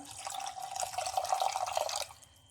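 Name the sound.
pouring water into curry pan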